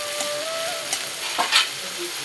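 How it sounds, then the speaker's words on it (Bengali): Chopped onion sizzles and fries in a pan while being stirred, with a steady hiss and a few scraping spatula knocks close up, no talking. "পেঁয়াজটা দিয়ে একটু নেড়ে নিচ্ছি, শুধু কাঁচা কাঁচা ভাবটা যাওয়ার জন্য"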